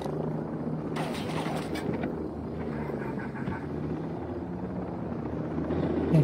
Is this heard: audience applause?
no